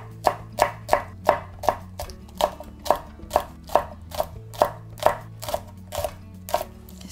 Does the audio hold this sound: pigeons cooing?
no